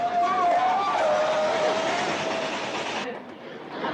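A locomotive running fast on a railroad rumbles along the rails with a steady roar and a drawn-out whistle-like squeal, loud and close, easing off near the end.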